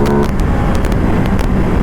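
A two-cylinder motorcycle in sport mode launches hard, its loud engine roaring steadily and close with broadband rush and brief gear-shift bursts, no talk over it.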